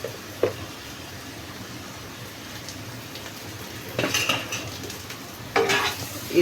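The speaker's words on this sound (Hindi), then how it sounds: "फ्राई कर लेंगे ताकि पक जाए मसाला" Spices, coriander powder and chili, frying in a pan with a low steady sizzle, stirred with clinking utensil scrapes at several points.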